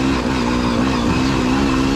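Coxy's old Spanish Gas 300 two-stroke enduro motorcycle on a prologue lap at the Tenterfield Terror hard enduro: a loud, steady, buzzing engine drone held close and constant throughout.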